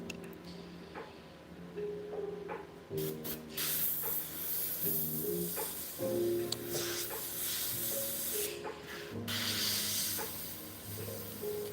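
An airbrush hisses in uneven, stop-start bursts of spray onto a T-shirt, close and fairly quiet, with faint tonal background sounds and no speech.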